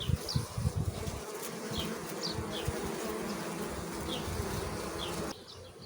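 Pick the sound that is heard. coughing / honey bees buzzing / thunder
honey bees buzzing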